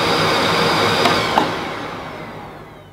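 AEG VX8 Silence Pet Pro cylinder vacuum cleaner running on its maximum setting, a steady, fairly quiet whooshing hum close by, with two brief clicks partway through before it begins to fade.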